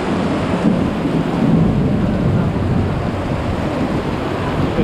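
Heavy rain pours on a Kuala Lumpur street, a loud, dense, continuous roar of downpour with a rumbling low undertone and no talk.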